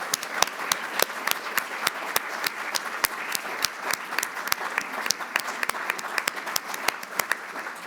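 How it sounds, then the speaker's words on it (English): Conference audience applauding at the close of an art history panel session, a steady dense patter of many hands clapping at close range, sustained throughout with no talk over it. "please, a huge round of applause to yourselves and to our contributors."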